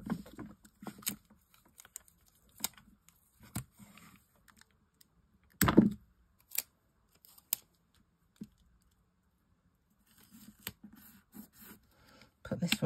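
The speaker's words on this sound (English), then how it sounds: "I'm going to join the pieces together just with a bit of sticky tape" Sticky tape pulled off a roll and pressed down to join pieces of paper craft, with short rips and crackles scattered through quiet stretches and one louder, longer tear near the middle.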